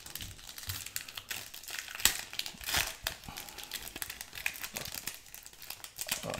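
Foil wrappers of Pokemon Unified Minds booster packs crinkle and rustle up close on a tabletop, in quiet irregular bursts with a few sharper crackles, no voices.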